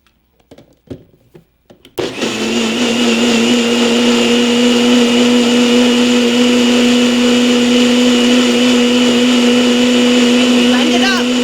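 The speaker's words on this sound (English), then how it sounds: "you put it in the blender, or in this case, I'm using a NutriBullet." A NutriBullet blender roars loudly and steadily as it blends soaked sea moss into gel, following a few brief knocks and clicks at the start.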